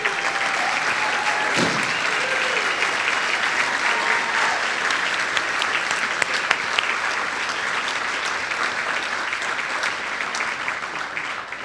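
A large crowd at an arts awards ceremony applauds steadily and loudly, sustained clapping with no pause, the wash of hands continuing throughout.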